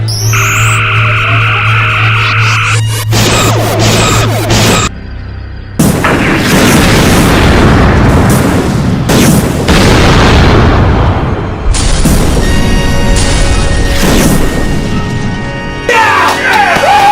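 Starship weapons fire and explosions from a Star Trek movie: loud, booming blasts and crashing impacts follow one another across the scene, layered with electronic tones and dramatic sound effects.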